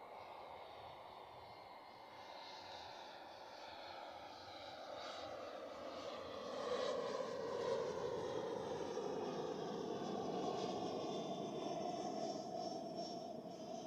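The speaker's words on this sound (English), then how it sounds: "Cessna Citation." Cessna Citation business jet at Zurich Airport, a steady roar that builds slightly and holds at moderate distance, with no talk over it.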